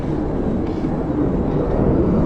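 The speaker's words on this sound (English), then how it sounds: "I keep trying to see the planes." A loud, steady roar of aircraft engines fills the air, a broad continuous rumble overhead without any clear voices.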